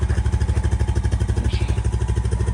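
A 2020 Honda Rubicon Deluxe ATV engine idling after starting, a close, even chugging pulse with regular rapid firing beats and a faint clatter, no talk.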